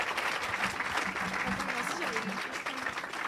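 Applause from a congregation in a church, a steady wash of clapping that carries on for the whole moment, with voices mixed into it.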